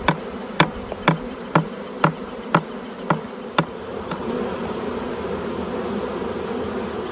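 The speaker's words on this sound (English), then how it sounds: "Cheryl gave it a good swift shake, and she's pretty sure she saw the queen land" A dense swarm of honey bees buzzing steadily and close, with a string of sharp rhythmic knocks in the first few seconds before the hum carries on alone.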